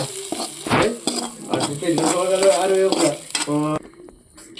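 Frying for a chicken curry in a pan with steady sizzling and stirring scrapes, plus some clinking of utensils, fairly close and continuous before it drops off near the end.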